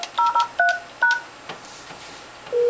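A telephone dials an office phone extension, with a quick series of crisp touch-tone beeps, a short pause, two more tones, and then the start of another tone at the end.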